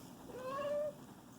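A house cat meows once close by, a single drawn-out rising and falling call over quiet room noise.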